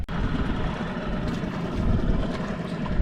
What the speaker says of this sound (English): So outboard is running great.